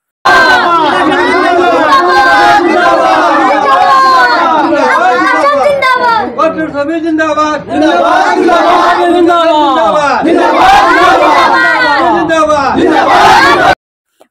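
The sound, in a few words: crowd of people gathered at a panchayat election office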